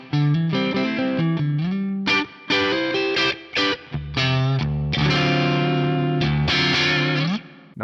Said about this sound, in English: I've got the ODS 100 clean amp model, my free LTTV Mix 7 cab IR, and my go-to reverb, the London Plate.